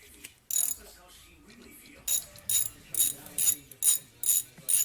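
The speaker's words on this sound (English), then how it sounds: "Then we just want to tighten it up just enough to stop the brake fluid from flowing out." A ratchet tightens a banjo bolt on a Jeep Wrangler brake caliper during a Powerstop Extreme Z36 brake upgrade, giving a crisp run of rapid clicking bursts, one short burst first and then a steady series of about eight, close and clear.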